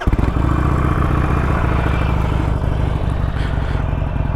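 A motorcycle engine is restarted and runs at a steady idle during a beginner's first riding lesson, with a rough, close, continuous rumble and some clatter and no talk.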